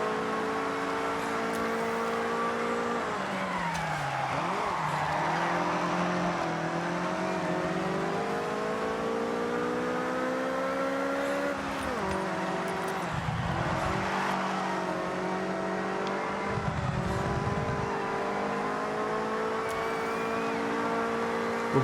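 A small inline three-cylinder car engine in Forza Horizon 6 drones steadily, its pitch rising and falling through gear changes, with a few dips as the throttle lifts, heard alone throughout.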